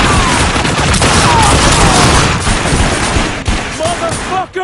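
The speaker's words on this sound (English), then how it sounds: "Stop talking and start fucking shooting!" Dense, loud gunfire fills a firefight in The Darkness II video game, with rapid overlapping shots and bursts, shouted voices mixed into the chaos.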